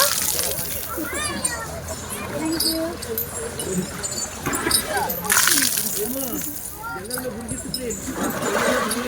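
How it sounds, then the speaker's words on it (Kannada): Water splashes and pours down in bursts, like a shower, as an elephant is showered, while children and adults chatter and call out around it. "ಇದು ಶವರ್ ತರ ನೀರಾಗ್ತಿದೆ"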